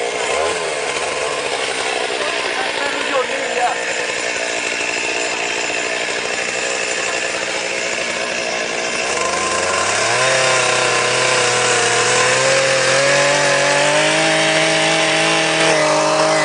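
A chainsaw cuts through a rhino horn during a live dehorning, its engine droning steadily nearby and then revving higher and louder about halfway through as the cut deepens, with no talking.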